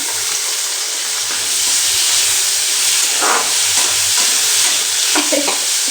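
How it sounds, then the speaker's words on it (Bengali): Loud, continuous sizzling of capsicum frying in a hot pan, with occasional stirring scrapes and no talking. "ক্যাপসিকামটা প্রায় ভাজা হয়ে এসেছে"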